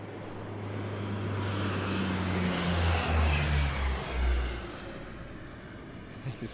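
An M346 jet roars low and almost directly overhead during Thursday practice at the Leszno airshow, a loud, broad rush that swells to a peak in the middle and then slowly eases away.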